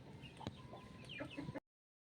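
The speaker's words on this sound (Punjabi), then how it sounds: "ਆਪਣੇ ਵੱਡੇ ਮੁਰਗੇ ਅੰਡਰਟੇਕਰ ਦੇ ਆ ਇਹ ਜਿਹੜੀ ਮੁਰਗੀ ਇਹਨਾਂ ਦੀ ਮਾਂ ਨਹੀਂ ਹੈਗੀ" Chickens, including a hen and her four chicks, give a short run of soft, close clucks and chatter before the sound cuts off abruptly.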